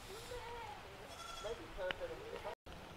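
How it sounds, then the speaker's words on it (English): Goats in a small herd at a theme park farm give faint, brief bleats beneath nearby talk and outdoor background noise. "A group of goats is called a herd, tribe, or trip."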